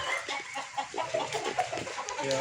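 Stag rooster clucking in a short, busy burst of bird calls, several overlapping clucks and chatter at close range with no talk.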